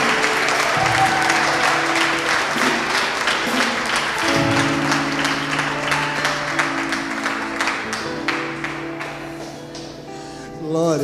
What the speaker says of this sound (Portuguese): Você pode mais uma vez aplaudir ao Senhor por este casal.